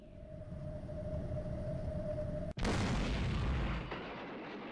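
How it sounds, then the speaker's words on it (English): An explosion in the video game Rose Guns Days cuts into a steady hum with a sudden loud blast partway through, followed by a roaring, rumbling tail that slowly fades. "An explosion rang out and Primavera shook."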